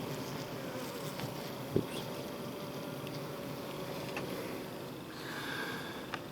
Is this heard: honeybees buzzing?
yes